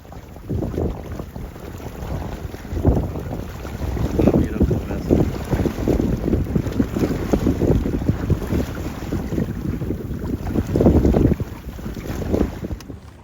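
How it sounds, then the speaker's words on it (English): Steady wind buffeting the microphone aboard a small sailing dinghy running downwind back to port, a loud continuous rumbling roar with gusts and faint water sloshing beneath, and no voices. "the wind is to my stern, which makes it easy for downhill sailing all the way to my slip"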